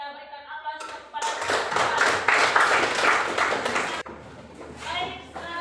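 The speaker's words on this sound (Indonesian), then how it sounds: "kita berikan aplaus kepada" Classroom applause for a student group finishing their presentation: a dense burst of many hands clapping for about three seconds, fairly close and loud, with voices talking before and after it.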